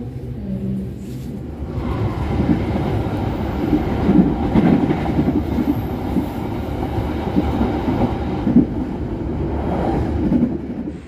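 Pasundan passenger train cars roll steadily along the rails with a continuous rumble and soft clickety-clack, heard from inside throughout with no voices.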